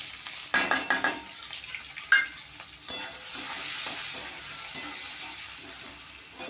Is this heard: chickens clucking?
no